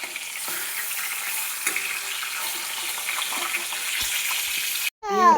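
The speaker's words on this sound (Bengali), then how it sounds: "চলো মাছ ভাজা তো হচ্ছে" Fish sizzles steadily in hot oil in a home kitchen, a continuous close crackle with a few light clatters, ending in a sudden cut and a brief bright squeak.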